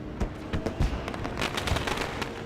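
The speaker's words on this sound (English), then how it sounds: "as the fireworks ring on out of turn number 3" Fireworks going off over turn three of Phoenix International Raceway after a night race, a scatter of distant cracks and pops in an irregular burst over a steady wash of crowd and track noise.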